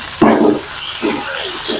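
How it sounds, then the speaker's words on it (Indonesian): Eggplant and spices being stirred in a frying pan with young eggs, a soft sizzle under scraping stirs that come in a few separate strokes, close and moderately quiet. "kita aduk hingga merata"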